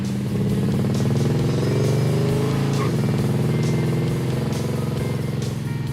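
A car engine revs freely while driving with no third gear, a steady droning growl that holds its pitch with slight wavering and a faint rattle underneath.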